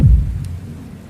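Heavy rain and a deep thunder rumble from a storm over a small town, the low roll loud at first and fading under steady downpour, with no voices.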